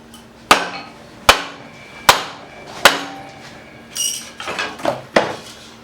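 A wooden whacking stick strikes a 1977 Honda CT90 Trail motorcycle part, five sharp loud knocks at roughly even intervals, then a looser cluster of quicker, rattling hits and a final solid whack.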